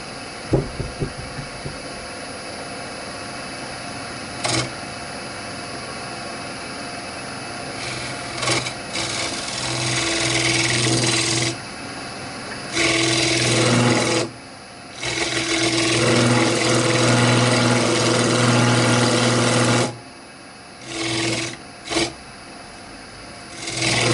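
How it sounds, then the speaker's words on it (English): Homemade hollowing tool cutting deep into the bottom of a multi-branch log hollow form on a lathe: scraping, rasping cuts over the lathe's steady hum, stopping and restarting in irregular bursts with brief silences, no talk. "now we've got my homemade tool here to get into deep hollowing at the bottom of the piece"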